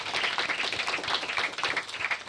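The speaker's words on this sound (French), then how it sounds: "Chers amis, je vous demande d'applaudir." Studio audience applause welcoming a guest on a talk show, a fairly quiet bed of many hands clapping with a soft pulsing rhythm, steady throughout and without voices.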